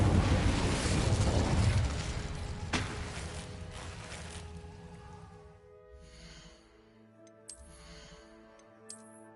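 An Incendio fire spell cast in a Harry Potter video game erupts as a loud roaring whoosh that fades over several seconds into quiet crackling and soft tonal ambience, with no talk.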